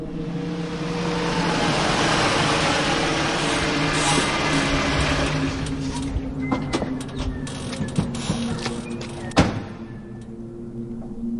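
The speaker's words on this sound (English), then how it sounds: "he heard the sound of a car pulling into the driveway." A car pulls into a driveway, its engine rumbling close and loud before easing off, followed by scattered mechanical clicks and a sharp thud like a door closing, with no voices.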